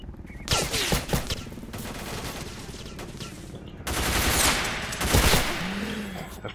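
Gunfire in S.T.A.L.K.E.R.: Call of Misery, with repeated loud bursts and scattered shots from start to finish, heaviest around the middle and again near the end.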